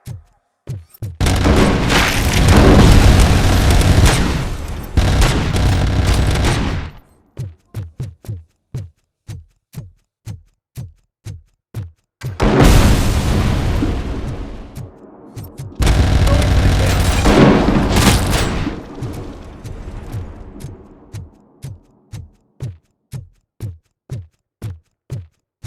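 Cobra cannon fire in the video game RoboCop: Rogue City, heard as long roaring blasts alternating with runs of sharp, evenly spaced heavy shots, loud and close.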